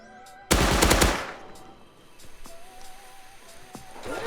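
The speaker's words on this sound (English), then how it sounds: "When you hear a double barrel shotgun and you don't hear any other shots after it, it probably means that someone died." A double barrel shotgun fires once in the video game Rust, a loud close blast with a short rattling tail, followed by quiet ambient game sounds and faint distant shots.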